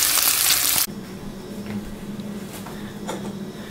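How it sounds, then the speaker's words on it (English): Bacon fries in a pan for breakfast, a loud burst of crackling hiss for the first second that drops to a quieter steady sizzle with faint pops, close by and without talk. "Making bacon, just like old John Wayne."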